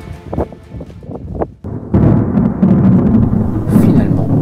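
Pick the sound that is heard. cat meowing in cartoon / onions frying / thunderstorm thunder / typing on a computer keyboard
thunderstorm thunder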